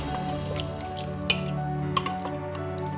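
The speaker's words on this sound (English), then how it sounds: "When your beef has changed color a bit, just add some water to it" Water is poured into a pot of browned beef for a slow-cooked stew, trickling and dripping with a few small splashes over a steady kitchen background hum.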